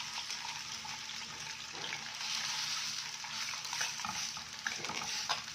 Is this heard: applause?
no